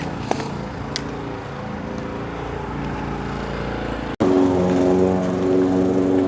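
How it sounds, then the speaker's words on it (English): A lawn mower engine drones steadily nearby with a humming tone, then jumps abruptly louder and rougher partway through, with no talk. "until this gentleman pulled out the lawnmower"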